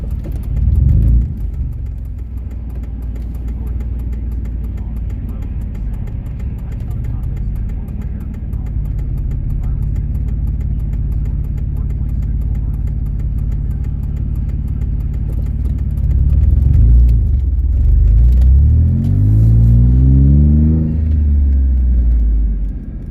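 A car engine drones steadily at low pitch while driving home on a 52°F day, a continuous near rumble that swells slightly toward the end, with a voice speaking briefly over it.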